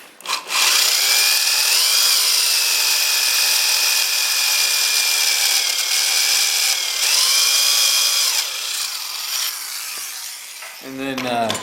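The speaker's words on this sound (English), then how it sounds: "Then we can drill, and it keeps everything nice and perpendicular" A power drill whines loudly and steadily as it bores through metal guided by a drill bushing, pitch dipping briefly under load, then winding down with a final clatter.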